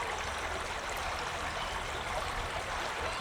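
River water flows steadily past a riverside camp in Botolan, Zambales, a constant close rushing wash with no pauses and no voices.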